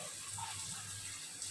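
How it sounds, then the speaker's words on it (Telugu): Steady hiss of water pouring from a Cera rain shower inside a shower cubicle, a soft continuous spray with no voices over it. "rain shower"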